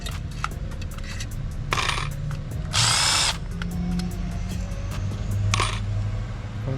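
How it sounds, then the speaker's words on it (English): A power screwdriver spins screws out of a Dodge Uconnect 8.4 touch screen unit, with several short bursts of high whirring and small metallic clatters of screws and tools in between, close and clear with no talking. "You should have a total of 4, 5, 6 screws taken out."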